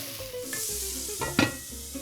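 Mirepoix of one carrot, two onions and one celery with a pinch of salt sweating in a pot for beef bourguignon, a soft steady sizzle with a couple of stirring clanks against the pot.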